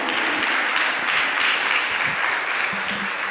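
Churchgoers break into sustained applause during a sermon on healthy families, a thick wash of clapping from a full congregation, even and loud throughout, with a few low voices underneath.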